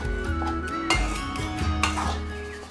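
A utensil scrapes and clinks against a pan while crumbled ingredients for fish biriyani are stirred and mixed, giving a close, continuous metallic clatter with short knocks.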